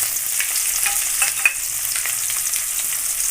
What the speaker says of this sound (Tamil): அது பொரிஞ்சதும் அது கூட வந்து கட் பண்ணி வச்சுருக்கிற வெங்காயமும் ஒரு கொத்து கருவேப்பிலையும் சேர்க்கலாம்